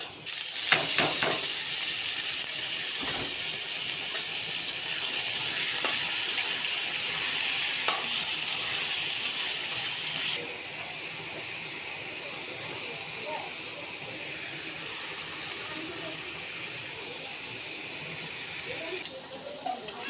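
Kachki fish hiss and sizzle in a pan with fried onions, loud crackling frying close up with stirring scrapes and knocks, the sizzle settling to a softer steady hiss partway through.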